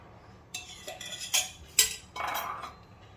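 A spoon whisks two spoonfuls of ghee in a bowl for an instant biscuit cake, giving a few sharp close metallic clinks against the bowl and then a short scraping swirl, with no talking.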